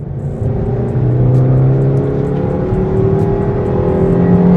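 A Maruti Suzuki Baleno's 1.2 litre K-series engine revving toward 5000 rpm, a steady loud drone whose pitch climbs gradually, heard from inside the car.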